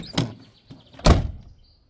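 A worn-out, run-down car's door is pushed shut but fails to latch, giving two dull thunks about a second apart, the second louder, with a faint rattle after, no one talking.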